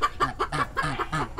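A goose on a goose farm guards its four or five newly hatched goslings, giving a close run of short, repeated clucking honks in a steady rhythm, with no talking.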